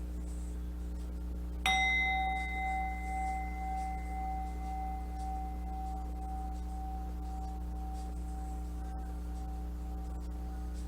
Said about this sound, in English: So let's get started with the chimes.